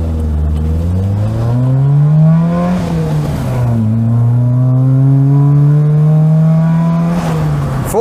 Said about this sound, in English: we'll have a bit of furious acceleration.